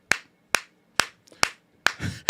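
One person's hands give five crisp, slow, evenly spaced claps, close and loud, each ringing briefly before the next, with a short murmur of voices near the end during a sports talk discussion.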